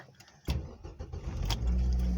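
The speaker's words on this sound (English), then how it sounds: "start the car" A Mazda FS engine cranks briefly, then catches and settles into a steady low idle, heard up close.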